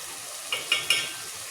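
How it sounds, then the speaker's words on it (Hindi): Spices sizzling and being stirred in a pot while cooking chana dal: a steady frying hiss with three quick spoon scrapes close together, no talking. "इन तमाम चीज़ों को अच्छे तरीके से भूनती हूँ"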